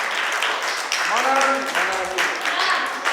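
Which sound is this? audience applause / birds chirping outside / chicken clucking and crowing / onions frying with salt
audience applause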